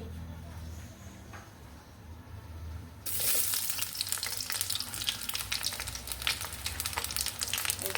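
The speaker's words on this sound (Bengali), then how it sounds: "এই যে দিয়ে দিলাম তেল এখন দিয়ে দিব পেঁয়াজ কুচি মরিচ কুচি" Chopped onion and chili hit hot oil in a wok: after a quieter start, a sudden loud sizzle bursts up and continues as a dense, steady crackle to the end.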